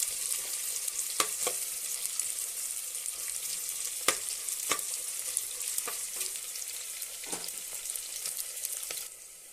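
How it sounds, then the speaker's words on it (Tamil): Chopped large onion sautéing in a pan for Tamil fish head curry, a steady bright sizzle with a few sharp spoon scrapes and clicks against the pan, close and continuous without voices. "கொஞ்சமாக பெரிய வெங்காயம் ஒன்று கட் பண்ணி வச்சுருக்கேன் அதையும் சேர்த்துடலாம் அப்படியே வதக்கி விட்டுறலாம்"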